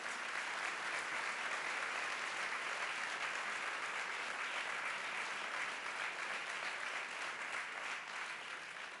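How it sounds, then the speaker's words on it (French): An audience applauds at an evening political campaign meeting of Horizon Monaco in 2012. The applause is dense, loud and steady, sustained without a break for the whole stretch, with no talking over it. "j'aimerais vous demander de les applaudir de la manière qu'ils méritent"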